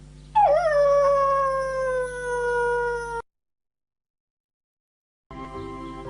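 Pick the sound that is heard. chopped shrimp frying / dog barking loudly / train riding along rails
dog barking loudly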